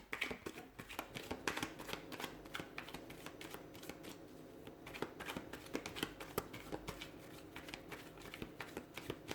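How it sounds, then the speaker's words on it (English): A deck of tarot cards is shuffled continuously, giving close, quiet rapid riffling and flicking bursts in an irregular rhythm, with no voices. "Let's give the cards a shuffle and see what's coming in."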